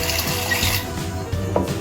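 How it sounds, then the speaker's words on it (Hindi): Cold tap water poured into a pot of partly cooked rice for egg biryani, a steady continuous splashing rush lasting under two seconds, close and fairly loud with no talk. "तो हम ठंडा पानी डाल दिया है, जल्दी ठंडा हो जाएगा।"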